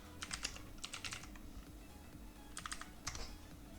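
Computer keyboard being typed on in short bursts of quick clicking keystrokes, with pauses between, close and quiet over a faint background hum.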